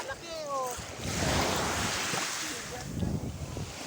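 Ocean waves at Ternate, Cavite wash and roar in a broad, steady rush, with wind buffeting the microphone and faint high tones early on.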